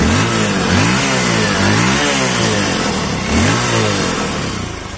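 A Yamaha MX King 150cc motorcycle from 2020 revving loudly and close by, the engine rising and falling in repeated throttle blips over a steady idle.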